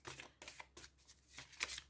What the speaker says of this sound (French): Je vais vous chercher une autre carte